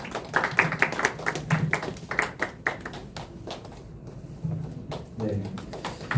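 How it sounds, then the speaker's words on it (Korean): A church youth service gathering gives a short burst of scattered hand clapping, quick uneven claps from a small group, mixed with talking voices. "박수 주세요."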